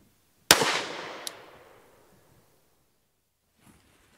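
A single loud handgun shot rings out during a shooting-stance demonstration, its blast trailing off in a long, echoing decay, with a faint sharp tick shortly after and a soft distant pop near the end.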